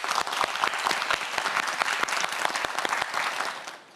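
Studio audience at a televised science quiz show breaks into loud, sustained applause of many hands clapping, fading out in the final half second.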